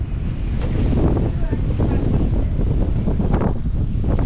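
Strong wind gusts to about 26 knots on a sailing boat near Grenada, buffeting the microphone in a rough, rumbling gust, loud and sustained with rushing turbulence.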